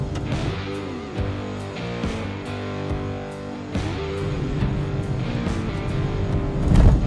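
A Tata Tigor EV electric sedan accelerating hard in sport mode on a public road, its rising motor whine and tire and road noise steady and close from inside the cabin, with a few bumps, swelling slightly toward the end.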